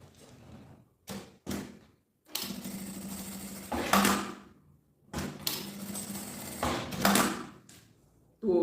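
A sewing machine runs two bursts of stitching, each about two seconds long, along the edge of a gym bag. Short knocks and handling sounds come between the runs, and the machine is close and fairly loud.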